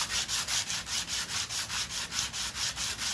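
Cloth-backed 180 grit sandpaper rubbed by hand across a homemade small engine intake, in quick, even back-and-forth strokes, about four per second, close up and steady, with no voices.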